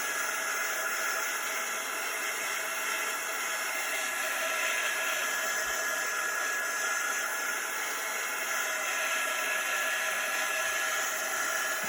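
A dryer blowing over wet chalk paste on a Chalk Couture craft piece, a steady, even whooshing hiss that runs unbroken throughout, close and moderately loud with no talking.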